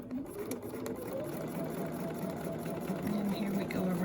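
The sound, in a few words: sewing machine stitching with needle down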